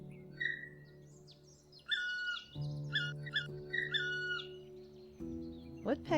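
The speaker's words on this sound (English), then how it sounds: "Woodpeckers are really loud." Bird calls from the Wingspan board game play as chirps and short whistled notes, repeating in quick bursts over a soft background music bed, fairly faint and close.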